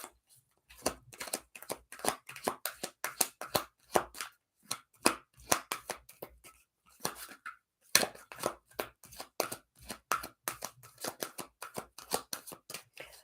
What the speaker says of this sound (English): the cards were like almost impossible to shuffle right there